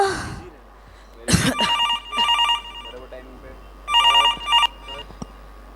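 A telephone rings in repeated electronic trills, two rings separated by a pause, after a short rustling bump; fairly close and clear.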